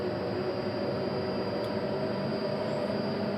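A train in Train Simulator Classic on the Birmingham to Euston route slowly pulling out of a station, a steady broadband rumble and rolling hiss throughout with no talk.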